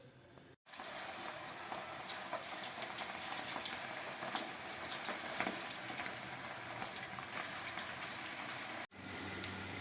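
Cauliflower pakoda frying in hot oil, a steady close sizzle and crackle that runs almost throughout, with two brief breaks.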